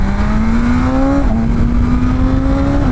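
A BMW S1000RR sport bike engine held at a high, steady whine that dips briefly and climbs again, loud and close with a constant buzzing tone.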